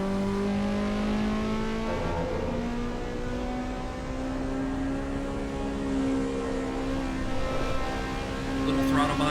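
A race car engine held at full throttle in Assetto Corsa EVO drones loudly and steadily, its pitch climbing slowly and dipping briefly at a gear change, with a voice talking faintly underneath.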